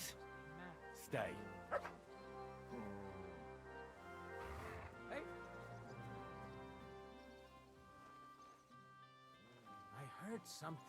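A video game dog barks and yips in short bursts between stretches of someone talking, the barks fairly faint against the speech.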